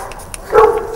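A hunting hound at a hunt with hounds gives one short, sharp bark close by, preceded by faint yips in an otherwise quiet moment.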